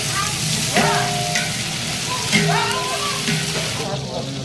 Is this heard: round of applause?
no